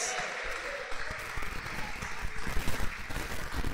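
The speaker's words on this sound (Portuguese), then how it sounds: "Vamos aplaudir esta palavra." A church congregation applauds at a fairly low level. The clapping swells unevenly over a few seconds amid murmuring voices.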